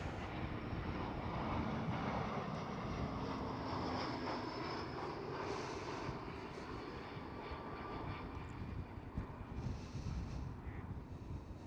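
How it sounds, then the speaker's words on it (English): An EasyJet Airbus A320neo passing at Amsterdam Schiphol, its engine roar a steady broadband rush mixed with wind buffeting on the microphone, holding loud for the whole stretch with no voices. "Here is EasyJet with an Airbus A320neo"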